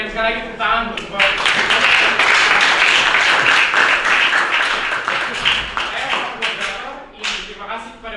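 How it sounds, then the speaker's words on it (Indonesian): An audience at the close of a school presentation session applauds, dense steady clapping that swells and runs for several seconds before thinning out, heard up close in a hall. "Kita berikan sekali lagi tepuk tangan buat"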